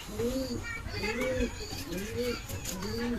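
Pigeons kept in a home loft, several breeding pairs, cooing in a slow repeating rhythm of four close, moderately loud calls with faint chirps in the background.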